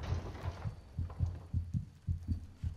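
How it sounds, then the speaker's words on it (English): Heartbeat in the horror video game Among the Sleep: a steady double-thump pulse, low and throbbing, repeating about every half second, close and alone with a faint hum beneath. "Oh, there's a heartbeat."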